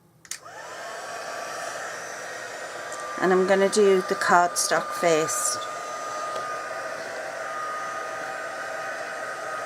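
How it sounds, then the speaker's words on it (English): Steady broadband blowing hum of a heat gun running continuously, with a person speaking briefly partway through over the constant whoosh. "got my heat gun. Gonna turn it on now"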